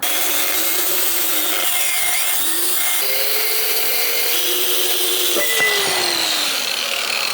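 A section of a Ford Explorer 8.8 rear axle is cut for a swap into a VW Rabbit pickup. The cutting makes a loud, continuous, grinding rasp with shifting whining tones, close and steady throughout, with no talking.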